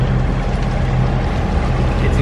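A boat engine drones steadily and loudly up close, a dense continuous rumble with a low throb running through it.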